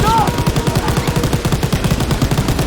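Rapid, steady machine gun fire in the Call of Duty: WWII game during a train assault, a loud continuous rattle of evenly spaced shots running throughout.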